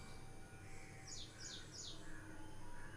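Several birds chirp in the morning, with a few quick descending tweets repeated in a short series over a constant hum of background ambience, faint and at some distance.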